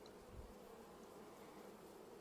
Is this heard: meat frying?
no